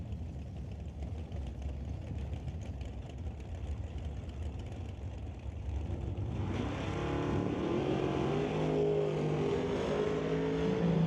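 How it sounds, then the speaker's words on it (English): Drag racing cars on a 1/8-mile strip, a Chevy Malibu with a 355 cubic inch big block against a 1967 Chevy Camaro: engines rumble at idle, then swell into a loud, sustained roar. "355 cubic inches of big block Chevy motor underneath the Malibu over here, GCS side, racing against Adam DeYoung's"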